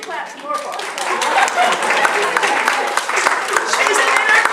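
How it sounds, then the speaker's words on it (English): A church congregation claps through an evening service, the applause swelling and holding steady at moderate distance, mixed with scattered voices and crowd murmur. "She wants you to clap some more for her."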